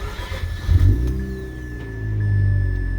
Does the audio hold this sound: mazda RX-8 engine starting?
yes